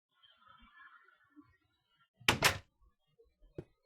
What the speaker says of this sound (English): I can shut the door against any incoming monsters